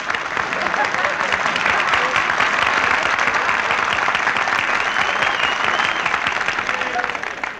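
A studio audience on a 1940s Jack Benny Christmas radio show applauds loudly and steadily, a dense wash of clapping that holds for several seconds and starts to thin right at the end.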